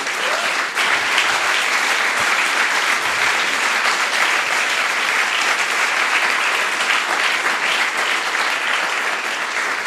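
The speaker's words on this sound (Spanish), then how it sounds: "Denle un aplauso al Señor" A church congregation applauds loudly and continuously, a dense, even wash of many hands clapping for the full ten seconds with no pause.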